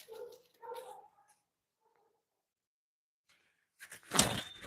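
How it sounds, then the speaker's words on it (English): Rosie the dog gives a couple of short yelps close by, then goes quiet. A louder, rough burst of noise follows near the end. "Hello, doggy. Hi, doggy."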